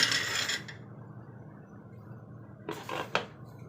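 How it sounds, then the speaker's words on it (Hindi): Metal clinks and scrapes as the lid of a pressure cooker of rice pulao is set and locked shut: a clattering burst at the start, a quiet pause, then a couple of sharp metallic knocks and clacks up close. "अब हम प्रेशर बंद करते हैं"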